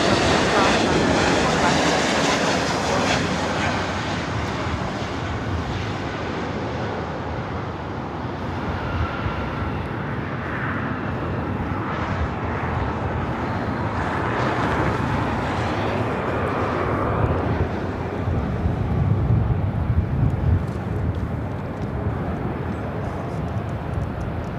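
United Airlines Boeing 737 MAX 8 jet at Los Angeles International Airport, a steady broadband engine roar that holds loud and close throughout, with dusty airport ambience around it.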